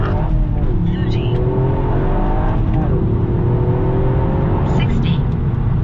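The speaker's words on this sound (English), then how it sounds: "You ready? Yeah, go on, get the revs up." A Toyota GR Yaris engine roars continuously at close range, revs climbing and shifting as it accelerates hard from 0 to 60, with faint voices underneath.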